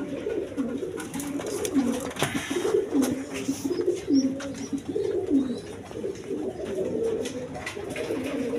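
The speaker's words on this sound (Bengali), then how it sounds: "দর্শক এইখানে এক পেয়ার গররা কবুতর আছে" A pair of gorra pigeons cooing in repeated low, throaty rolls, close and steady over a faint background hum, with no talking.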